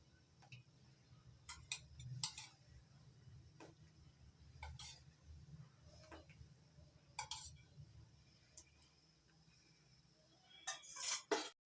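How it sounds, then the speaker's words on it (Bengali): A spoon stirs tamarind into tomato pulp for homemade vegetarian tomato sauce, giving a series of quiet, sharp clinks against the pot at irregular intervals, with a soft low rumble of stirring in between. "ভালো করে মিশিয়ে নিচ্ছি টমেটো পাতের সঙ্গে"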